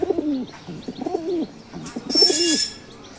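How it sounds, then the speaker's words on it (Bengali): Pigeons coo in a domestic coop, three rounded, throaty calls in steady succession, close and clear, with a brief sharp chirp or rustle near the end. "এই যে কবুতরগুলো মাশাআল্লাহ।"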